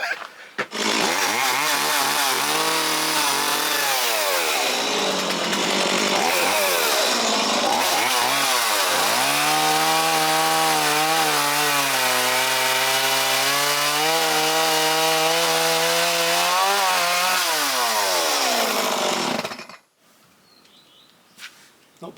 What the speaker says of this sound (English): I'm going to get the chainsaw out.